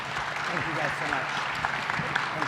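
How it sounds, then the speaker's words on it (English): Audience applause at a healthcare launch event, brief steady clapping from a crowd with voices talking over it. "a round of applause for our trailblazers"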